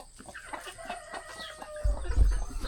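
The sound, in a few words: rooster and hen clucking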